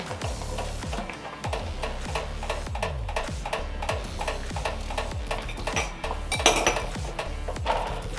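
A spoon stirs a tablespoon of mustard into a lobster mac and cheese sauce, giving steady rhythmic clinks and scrapes against the pot, close and moderately loud, with no talking.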